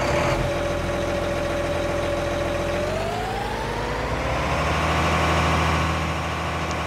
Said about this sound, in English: I do really like the engine sounds on this 9RX